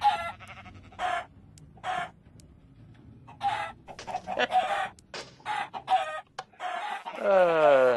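Chickens on an automated chicken farm in the Minecraft FTB video game give repeated short clucks and squawks, several birds close by in quick irregular bursts, ending in a drawn-out crow-like call.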